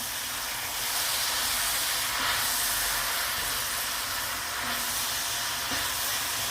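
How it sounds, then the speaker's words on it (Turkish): Steamed grape leaves sauté in a hot pan with a continuous, loud sizzling hiss that holds steady from start to finish. "Şimdi biraz kavuracağım."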